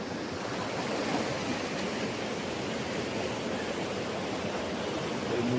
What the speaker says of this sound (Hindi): माशाल्लाह वो ऊपर से भी आबशार आपको शायद नजर आ रही हो